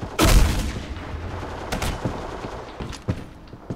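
A DGL grenade launcher round in the video game Black Squad detonates with a loud, deep blast, followed by scattered softer gunshots and thuds fading into the background.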